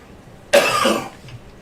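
A single sharp cough close up, standing alone against a quiet background.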